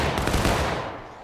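A loud volley of musket fire from an infantry line in a Civil War-style video game bursts out close at hand as one dense, sustained crackle that fades slightly over a second, with no voices.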